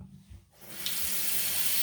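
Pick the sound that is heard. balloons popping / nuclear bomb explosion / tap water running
tap water running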